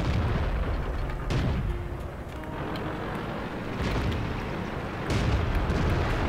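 Tank cannon fire in the World of Tanks video game: heavy booming shots with rumbling blasts, a couple of sharp reports spaced a few seconds apart over a continuous low battle rumble.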